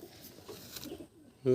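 A show pigeon of the Andhra breed coos softly a few times close by, with a voice speaking briefly at the very end.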